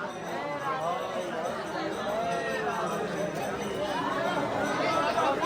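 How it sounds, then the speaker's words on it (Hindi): A large crowd chatters at the entrance gate of Nidhivan in Vrindavan, a steady, dense babble of many overlapping voices, close and loud throughout, growing slightly busier toward the end. "भाई भीड़ देख सकता हूँ, बहुत तगड़ी भीड़ लगी हुई है।"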